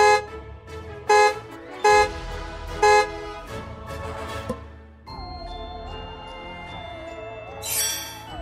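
In a Daniel Tiger's Neighborhood video game, three short bright synthetic horn toots sound in a row, then a steady electronic hum like a game engine rolls on with a tinkling chime at the end.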